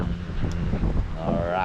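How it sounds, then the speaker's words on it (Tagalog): Strong wind buffets a microphone aboard a small boat at sea, a brief, close, rumbling gusty roar with a voice talking faintly underneath. "Lakas kasi ang hangin, mga kalaot."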